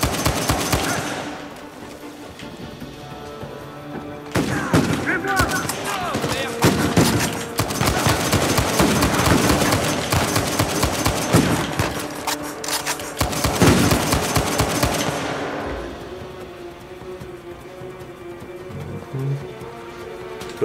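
Rapid gunfire from a weapon in the video game Uncharted 4 rattles in dense automatic bursts across most of the stretch, loud and close, before tapering off into quieter game ambience.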